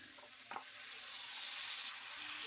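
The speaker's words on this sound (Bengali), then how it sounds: "নুন আর কাশ্মীর গুঁড়ো লঙ্কা পেঁয়াজ টমেটোর সাথে খুব ভালো করে মিশিয়ে নিয়ে কষিয়ে নেব" Onion and tomato with salt and Kashmiri chili powder stir-fry in a pan for Bengali tangra fish curry, a steady close sizzle with a brief utensil scrape near the start and no talk.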